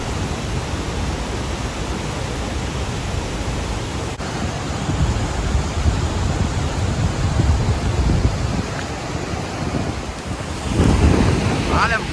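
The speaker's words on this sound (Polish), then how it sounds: "Ale woda już tu chlapie." Rushing water and spray at Iguazu Falls, on the border of Argentina and Brazil, fill the air with a loud, constant roar and wind buffeting, with heavier bursts of splashing toward the end.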